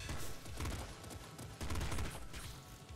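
Rapid bursts of popping gunfire from the bullet popper weapon in the Nuclear Throne Ultra Mod game, dense and continuous over layered game effects, loud with no pauses.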